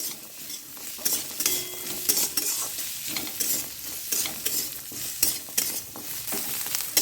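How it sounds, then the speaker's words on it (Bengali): Onion, garlic and ginger fry in a pan over a medium flame, a continuous close sizzle broken by rhythmic scraping strokes of a spoon stirring them, with no talking. "রসুন দিয়ে দিলাম, পেঁয়াজও দিয়ে দিলাম আর আদার টুকরোও দিয়ে দিলাম। একটু ভাজা ভাজা করে নিচ্ছি।"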